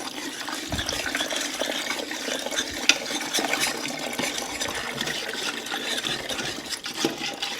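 Four cups of water poured steadily into cherry pie filling, a continuous close splashing and trickling stream that stays even throughout.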